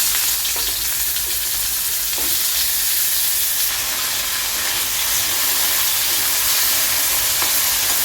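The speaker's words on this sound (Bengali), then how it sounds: "এবার আমি আলুটাকেও ভেজে নিচ্ছি" Steady, dense sizzling of potatoes with turmeric and salt frying in a pan, loud and continuous throughout with a constant hiss and occasional soft stirring sounds.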